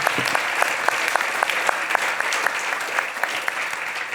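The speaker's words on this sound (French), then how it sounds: "Je pense qu'on peut les applaudir" Steady audience applause at an industry forum, many hands clapping in a dense, continuous patter at moderate loudness, with a voice briefly heard under it.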